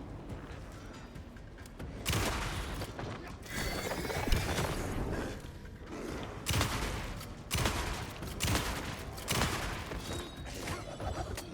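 Gunshots in Alan Wake 2 come in repeated bursts, with loud volleys of rapid fire and mechanical clatter separated by short lulls, set against a busy game soundscape.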